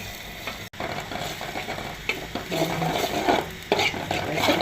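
Curry being sautéed in a pan, with steady sizzling and spoon-scraping stir sounds throughout, close and fairly loud, with a brief dropout near the start and no talking.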